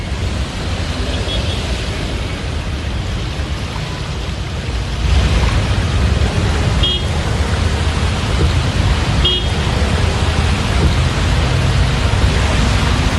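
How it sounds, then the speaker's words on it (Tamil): Heavy rain driven by strong storm winds in Chennai, a dense, loud, continuous roar of wind and downpour that swells louder about halfway through, with no talking. "சூறாவளி காற்றுடன் மழை பெய்தது"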